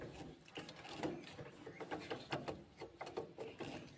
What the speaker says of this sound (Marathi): स्क्रूड्रायव्हरने व्यवस्थित हा स्क्रू पॅक करून घ्यायचा आहे